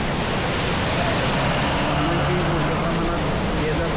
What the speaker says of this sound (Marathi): समोर जे पाणी वाहतं आहे ते किती मोठ्या प्रमाणात वाहतं आहे